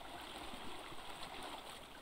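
A player character moves into water in the survival game Sons of the Forest, giving a brief, continuous rushing wash of water with a faint gurgle, close and steady, with no voices.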